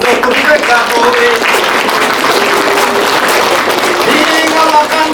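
An audience of mothers and guests at a school holiday concert claps along steadily, a dense rhythmic patter of hands under a performer's vocal delivery and music, loud and continuous.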